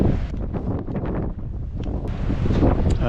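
Gusty wind blows outdoors across a farm clearing, buffeting the microphone with a steady, rough rumble and uneven gusts. No one talks.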